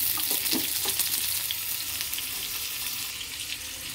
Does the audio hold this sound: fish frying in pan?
yes